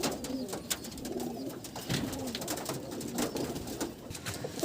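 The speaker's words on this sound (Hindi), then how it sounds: "अभी सामने ये जो दो कबूतर दिख रहा है आपको" Soft, repeated pigeon coos at close range from lightweight pigeons, low and throaty, with faint chirps from other birds over a steady background hum.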